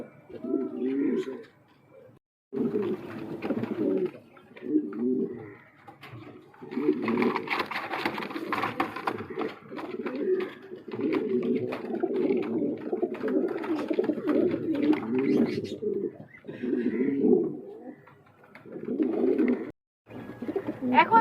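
A Lahori pigeon coos in close, repeated low rolling phrases with short pauses between them, fairly loud and alone without talk.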